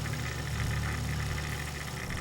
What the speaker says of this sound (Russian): странный шум, шипение вот это.